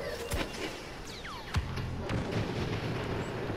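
A bomb exploding in Star Wars Battlefront: a sharp, heavy blast amid a busy firefight, with scattered shots and whooshing weapon fire around it.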